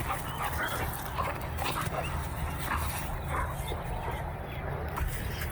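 A large 66 kg Dogo Argentino makes repeated whimpers, yips and short barks close by, over a steady low rumble of background noise.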